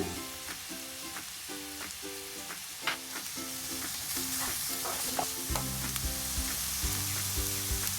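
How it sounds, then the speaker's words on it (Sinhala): Thinly sliced onions and carrots fry in a pan for mixed fried rice, a steady close sizzle with repeated stirring scrapes and clinks throughout, growing louder near the end. "හීනියට කපාගත්ත ලුණු ටික එකතු කරලා ටික වෙලාවක් පැදෙන්න දෙනවා."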